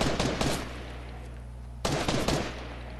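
Fortnite video game gunfire: two clusters of rapid shots, an early burst and a later one, over a steady low game hum, with no talk.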